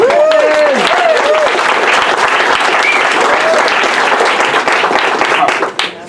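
Audience applause fills a Republican congressional debate hall, steady and dense throughout, with a few voices or whoops rising over the clapping near the start before it thins at the end.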